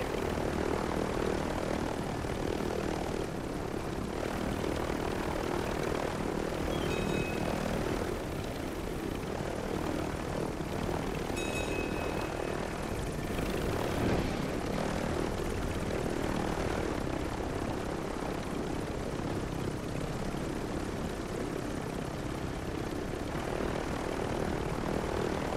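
Helicopter in the Warzone video game, a steady heavy rotor and engine drone running continuously and loudly throughout, with a few faint electronic beeps over it.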